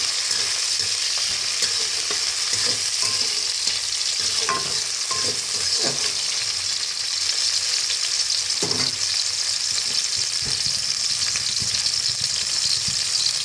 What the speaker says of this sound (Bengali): দেখো, ভাজা হচ্ছে।